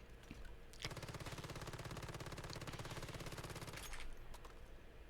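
Rapid automatic gunfire in the Once Human video game, a full magazine emptied in one continuous burst of closely spaced shots lasting about three seconds, crisp and even in rhythm, with no talking.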